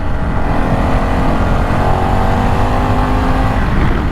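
Harley-Davidson Pan America 1250 motorcycle accelerating hard, its engine roaring loud and close beneath heavy wind rush as the quick shifter clicks up through the gears.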